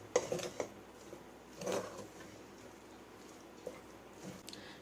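Scrambled egg is mixed into fried rice in a pan, heard as a few scraping, clinking stirs of a utensil against the pan with quieter gaps between them.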